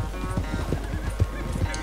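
A horse in Red Dead Redemption 2 gallops with quick, rhythmic hoof clip-clops and a whinny, heard close and at moderate loudness.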